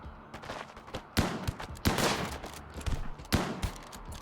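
Heavy SMG gunfire in the RimWorld video game, several loud bursts of rapid shots with sharp attacks around each second and a half, over a steady background of game sounds.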